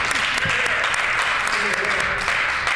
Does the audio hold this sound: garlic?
no